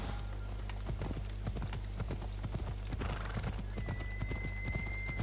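Horse hooves clip-clop in Assassin's Creed Odyssey, a steady run of sharp, evenly spaced hoofbeats over a constant low engine-like hum, with a brief whinny and a thin sustained tone joining near the end.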